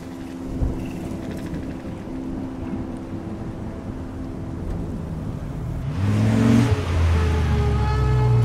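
Car driving in the Life Is Strange video game, a steady engine drone and road rumble that swells as the vehicle accelerates near the end, continuous and fairly loud with no talk.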